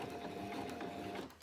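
A sewing machine stitching flat-laid fabric close to the pins for a wrist pincushion, giving a continuous mechanical whir that runs steadily and then tapers off at the end.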